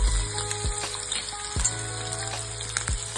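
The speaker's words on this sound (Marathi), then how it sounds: "जिरं चांगलं तळलं त्यामध्ये मी हा बारीक चिरलेला कांदा टाकला" Finely chopped onion dropped into oil where cumin seeds have been frying, producing a loud, steady close sizzle with a few light knocks of a utensil against the pan.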